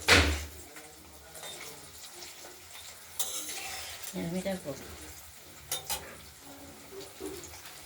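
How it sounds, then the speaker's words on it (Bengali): Paneer pieces fry in a pan with a soft, steady sizzle, broken by a few sharper clinks and scrapes as a utensil stirs and turns them. "পনিরগুলো একটা দিক ভাজা হয়ে গেছে, আরেকটা দিক আমরা ভেজে নিচ্ছি।"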